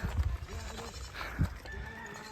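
Goats bleating in a village near the Bhutan–India border, a couple of short nearby cries over rustling ambient noise.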